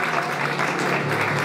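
Warm, dense audience applause greeting a girl at a Comisario por un Día event in Patzicía, continuous and fairly close, with no voice over it.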